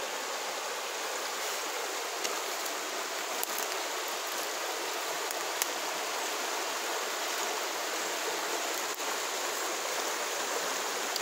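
A brook runs over rocks in the North Maine Woods, giving a steady, close, full rushing wash of water that stays even throughout with no voices.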